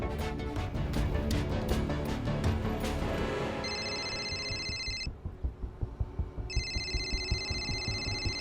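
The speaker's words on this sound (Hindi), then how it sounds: "मेरे एक इशारे पे किसी का भी फोन बजे" A telephone rings in a Hindi crime drama, its electronic ringtone pulsing in bursts over loud dramatic music and heavy thumping beats, with a brief pause in the ringing midway.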